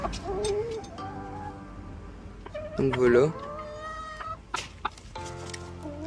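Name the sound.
rooster and hens clucking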